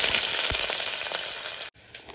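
Fennel seeds, cardamom, cinnamon and cloves sizzle in hot ghee for a mushroom biryani, a bright, dense crackle up close with a soft thump early on, then an abrupt cut before the frying resumes more quietly.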